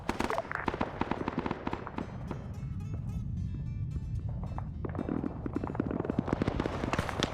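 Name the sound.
grenade explosions in a military video game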